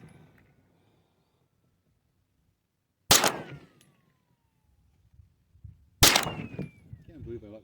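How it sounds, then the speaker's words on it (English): Two loud, sharp gunshots at a range, fired at a bottle target roughly three seconds apart, each with a short ringing tail, against otherwise quiet outdoor background. "Gonna try and hit that bottle. I've only got 3 shots"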